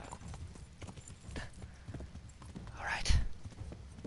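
A horse's hooves clip-clop in the medieval game Kingdom Come: Deliverance, a quick rhythmic trot with a brief louder snort or whinny near the end, and someone speaks briefly.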